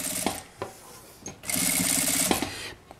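An industrial sewing machine stitches bias binding around the edge of a charger and earphone holder, with short taps and then a steady, loud run of stitching lasting about a second, alone without talk.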